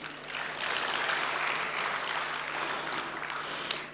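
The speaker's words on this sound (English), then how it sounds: "please give us a round of applause to confirm" An audience at an anniversary celebration applauds steadily for several seconds. The dense clapping fills a large room at an even level, and no voices rise above it.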